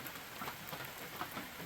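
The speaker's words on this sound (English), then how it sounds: "Still raining." Steady drizzle of rain falling outdoors, a soft continuous hiss with faint scattered drop taps, quiet and even throughout with no voices.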